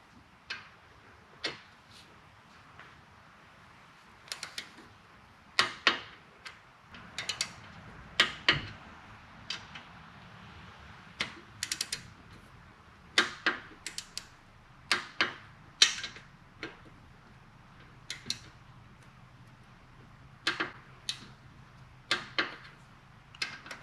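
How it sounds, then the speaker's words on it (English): Torque wrench tightening the rocker box bolts on a 2004 Harley-Davidson Road King Twin Cam, giving sharp, isolated clicks spaced a few seconds apart, sometimes in quick pairs, in an otherwise quiet garage. "Get a torque wrench and go back up to"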